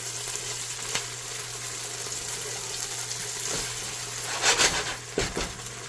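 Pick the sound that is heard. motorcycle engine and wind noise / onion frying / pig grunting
onion frying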